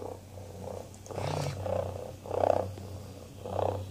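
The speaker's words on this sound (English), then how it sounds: "Oh, he's purring." A Hasbro Joy For All robotic companion cat gives off a soft, low, pulsing purr in slow repeated swells, close and steady against a faint background hum.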